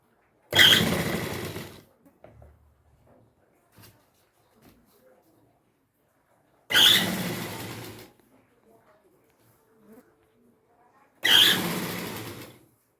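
Sewing machine stitching a cloth bag in three bursts of steady rapid whirring, each lasting about a second, with quiet gaps of faint handling between them.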